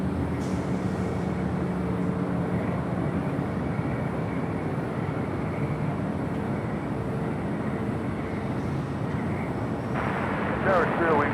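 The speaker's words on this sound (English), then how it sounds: "Japan Airlines Flight 15 heading back to Tokyo Haneda, the 777-300ER" A Japan Airlines Boeing 777-300ER jet taking off at Los Angeles International Airport, a steady distant roar of jet engines running under ongoing talk and radio chatter.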